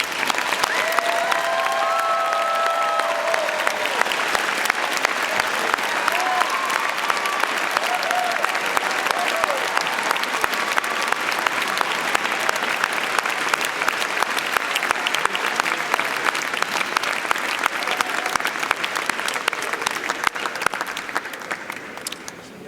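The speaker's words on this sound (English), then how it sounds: "applause and cheer." A large convocation audience applauds and cheers in sustained, loud, dense clapping that fills the hall for about twenty seconds before starting to taper off at the very end, with a few brief voices near the start.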